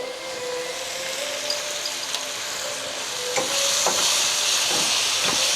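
Pork medallions frying in a pan give a steady broadband sizzle with faint crackles and pops, growing a little louder toward the end, with no voices.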